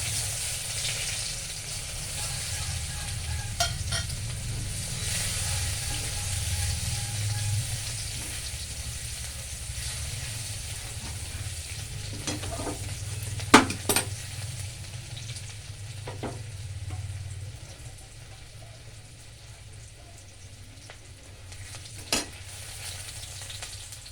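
Onion frying in a pan for a tangra fish curry, with a steady loud sizzle throughout and occasional sharp clinks of a spoon stirring, heard close and alone.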